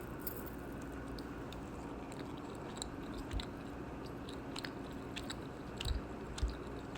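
Faint, close-up chewing of thin-sliced Trader Joe's beef prosciutto: soft, irregular wet bites and mouth sounds over quiet room hiss, with a few sharper clicks near the end.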